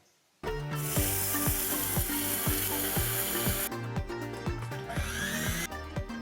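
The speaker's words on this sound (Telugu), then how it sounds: "ఇదిగోండి, మిక్సీలో పొడి చేసేద్దాం." A mixer grinder pulverises fenugreek and mustard seeds into powder, starting abruptly into a loud, steady whirring roar with rapid rhythmic rattling of seeds against the jar, running continuously with no talking.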